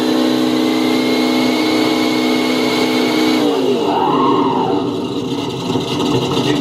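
A Vaterra V100 RC car spins up on a dyno with a Sense ESS Dual sound kit, a steady synthetic engine drone and whine that shifts pitch partway through, moderately loud with no talk.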